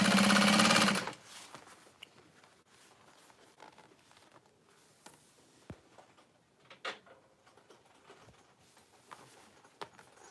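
A Juki sewing machine stitches a crossbody strap for a tote bag in one loud, close burst of about a second, then falls to quiet handling noises and light taps.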